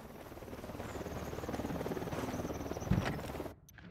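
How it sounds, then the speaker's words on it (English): Helicopter in the game Ghost Recon Wildlands, a steady rotor thrum swelling louder as it approaches, then cutting off abruptly near the end, with no talk over it. "Hit the dirt. Helicopter."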